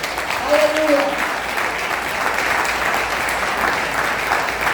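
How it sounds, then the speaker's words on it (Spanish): Congregation applause during a church service, steady dense clapping with a brief shout near the start. "Dar un aplauso al Señor."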